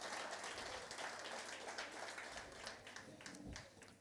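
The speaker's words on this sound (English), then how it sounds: "Let's give the judges a big round of applause so they can come to the front." A live audience at a Motherwell township entrepreneurs' event applauds the judges, a steady wash of clapping that sounds fairly distant and faint and runs throughout, with no clear voices on top.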